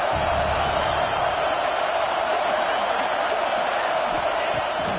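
Stadium crowd roar in a Madden football video game, a steady broad wash of cheering filling the background with no distinct peaks, under game commentary.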